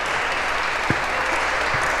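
Steady applause from an audience in a parish hall in Coyoacán, a continuous wash of clapping at moderate distance with a couple of brief knocks partway through.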